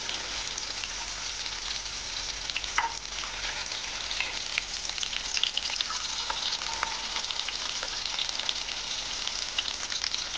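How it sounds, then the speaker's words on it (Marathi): Stuffed brinjals with green chili masala fry in a pan, a soft, even hiss of oil with scattered small crackles and faint stirring scrapes, continuous and moderately quiet with no voices. "आणि फ्राई छान होत आहे. पूर्ण वांगे आपण हलवून घेणार आहोत."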